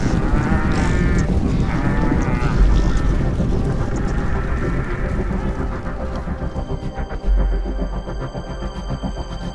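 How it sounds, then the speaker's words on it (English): Cattle herded toward a final weighing station before slaughter low and bellow repeatedly, several animals calling loud and near over a dense shuffling din, with metallic clanks toward the end. "They're just being herded towards the final weighing station before heading out to one of several slaughterhouses"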